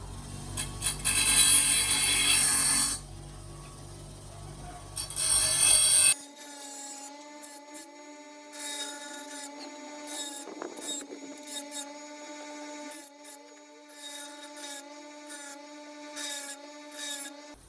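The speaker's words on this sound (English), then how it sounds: "I've grinded the worst of the burrs off, so it's sharper now." A lawn mower blade from a Weibang SVP50 mower is sharpened, grinding off burrs: two loud, harsh bursts of grinding, then quieter scraping and rubbing over a steady tonal hum.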